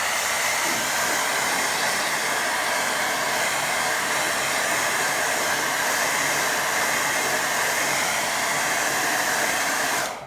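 A hair dryer blows steadily to dry a watercolour painting, a loud, even whooshing hum held for about ten seconds before it cuts off abruptly.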